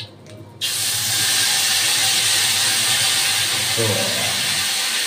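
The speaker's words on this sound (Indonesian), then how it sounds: "Oke, ibu, kita tumis bumbunya dulu ya" Indonesian soup spice paste sautéed in a pan bursts into a loud, steady sizzle that hisses continuously to the end, after a brief spoken word at the start.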